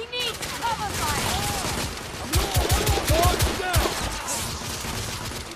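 Rapid gunfire in The Order: 1886, a third-person shooter, with repeated loud shots and bursts in a cluttered battle mix, heaviest in a dense cluster near the middle, with voices talking over it.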